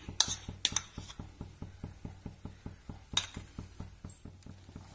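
Custard is stirred steadily in a pan for a fruit salad, the spoon tapping and scraping against the metal in a fast, even rhythm of soft clinks, close and quiet throughout.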